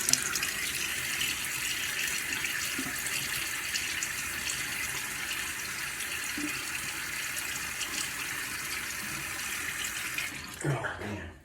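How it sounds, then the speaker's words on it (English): Running tap water in a bathroom sink while a face is wetted for a shave: a steady, close hiss of flowing water that continues unbroken for about ten seconds, then stops with a few splashes at the end. "Let me get my face wet."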